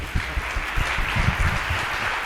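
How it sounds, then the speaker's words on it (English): Audience applause after a talk at a live event, a steady patter of clapping from a modest crowd, moderately loud and heard alone for a couple of seconds. "Applause."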